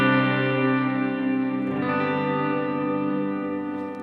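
Electric guitar through a pitch delay effect on a Headrush processor, a sustained chord ringing with layered shifted-pitch echoes that thicken and swell midway, then slowly fading, clean and up close.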